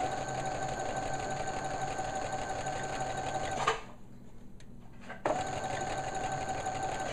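A sewing machine runs steadily while stitching elastic onto stretch dress fabric along a zigzagged edge, a continuous close whir that pauses briefly for about a second and a half before starting again.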